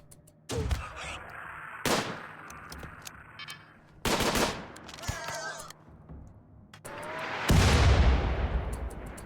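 Gunfire in the colony-building game RimWorld strikes outer walls during an assault. Loud bursts of rapid shots come in several separate volleys, with brief impacts and ringing tails between them.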